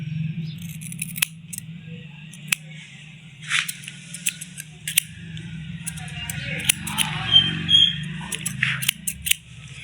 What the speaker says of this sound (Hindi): थोड़ा थोड़ा बाल दोस्तों कैंची से ही मिला सकते हैं हम